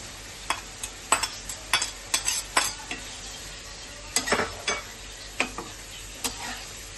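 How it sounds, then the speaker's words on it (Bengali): Banana flower being tossed and fried in spice masala for mocha chingri, a steady close sizzle under repeated sharp spatula taps and scrapes against the pan in uneven bursts, with no talking. "ভালো করে মোচাটা এই মশলার মধ্যে এভাবে মাখিয়ে নেবো আমরা"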